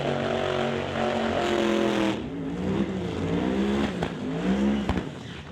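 Twin-turbocharged Mustang drag race car making a pass, a loud roaring engine with rising then falling harmonics as it accelerates and sweeps past, with sharp pops near the end.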